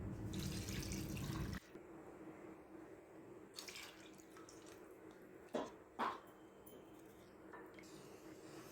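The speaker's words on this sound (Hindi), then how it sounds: "भुनाई करने के बाद अब हम इसमें पानी ऐड करेंगे।" Water runs steadily into a cooking pot for a second and a half, then stops, leaving faint drips and a couple of small clunks.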